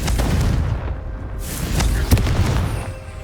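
A Confringo fire spell bursts in Hogwarts Legacy, a loud deep boom followed by a second sharp blast and rumbling debris, with no talk over it.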